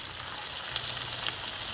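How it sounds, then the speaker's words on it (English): Mince kebab patties sizzling as they fry in hot oil, a steady close crackle with a few brief pops, no voices. "Then I'm just dropping it in the hot oil."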